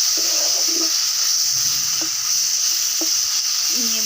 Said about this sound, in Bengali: দিয়ে আর একটু ভালো করে কষিয়ে নেব।